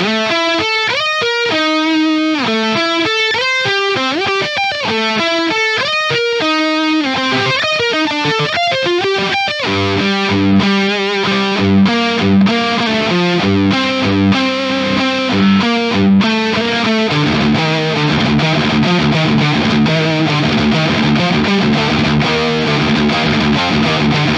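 Electric guitar driven through a Pedal Pimps Nibiru distortion pedal, loud and saturated, first picking quick single-note runs, then settling into thick sustained distorted chords and riffs with no talking.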